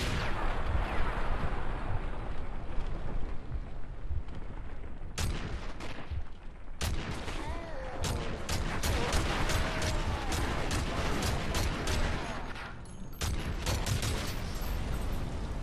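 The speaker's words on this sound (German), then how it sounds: "Das war ein nice Schuss," Dense gunfire and explosions from the video game Modern Warfare 3, loud and continuous with sharp bursts and rolling blasts, and no speech over it.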